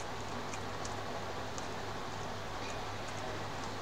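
Acid rain pours down in the Natural Disasters video game, a steady, even hiss of dense rainfall with faint scattered patters on top, constant and moderately quiet with no voices.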